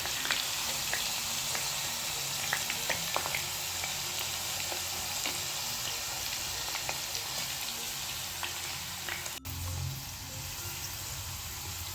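Tapioca chips deep frying in hot oil give a steady, dense crackling sizzle that runs loud and continuous throughout, with a brief clatter near the end.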